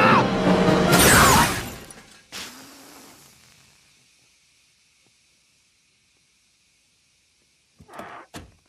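A cartoon car crash bursts out loud with shattering glass and a sharp smash, then fades to near silence before a couple of brief bumps near the end.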